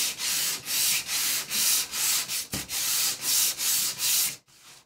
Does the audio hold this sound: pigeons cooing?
no